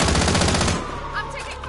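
Rapid automatic gunfire from a Call of Duty Resurgence match bursts loud and dense for most of a second, then cuts off, leaving quieter game ambience with a faint distant tone.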